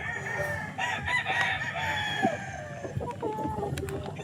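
A gamefowl rooster at a game farm crows close by, a harsh drawn-out call with clucking and farmyard noise around it.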